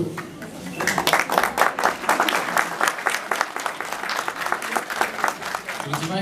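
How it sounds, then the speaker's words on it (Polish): An audience at an outdoor operetta concert in a village applauds loudly and steadily, dense clapping from many hands that holds for several seconds without fading. "Oklaski."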